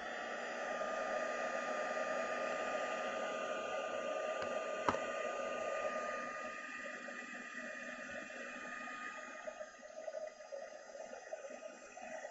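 A hair dryer blows steadily to heat embossing powder on a folded paper star, a loud continuous whoosh that eases slightly partway through, with a single sharp click near the middle.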